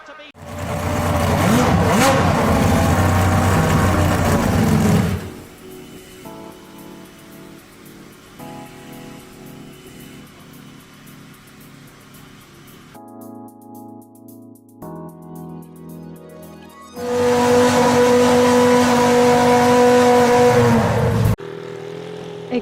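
Williams FW14B Formula One car at the Australian Grand Prix, its engine screaming loudly as it passes in bursts, with quieter stretches of distant engine noise and talk in between.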